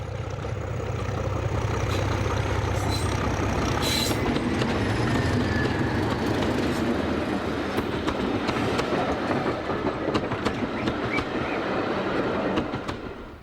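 A British Rail Class 31 diesel locomotive train rumbles past steadily with engine drone and rattling wheels, a sustained loud roar with faint squeals from the rails.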